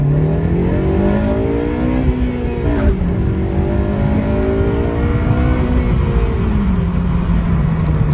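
A Honda Civic Mugen engine revs hard into VTEC on a drive after new front brake pads and rotors, a loud, close, rising and falling engine note that holds throughout with no talking.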